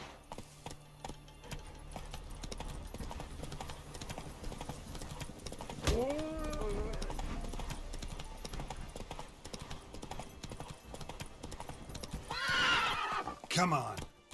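A horse in The Witcher 3 whinnies loudly mid-clip and again near the end, over steady clip-clopping hooves and dense game ambience.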